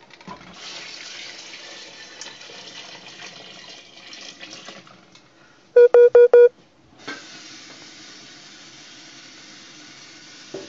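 Water poured into a pot of Christmas fruit punch with apple, tangerine and orange, a steady close splashing stream interrupted once by a quick series of loud electronic beeps before the pouring resumes.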